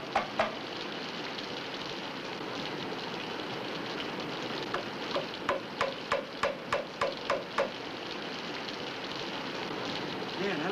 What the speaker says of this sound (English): That rain's really coming down now.